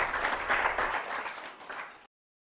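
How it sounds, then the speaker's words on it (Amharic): Classroom of children clapping for a classmate, a burst of mixed hand claps that fades and then cuts off abruptly into silence. "አጨብጭቡላት ጎበዝ ዊንታና።"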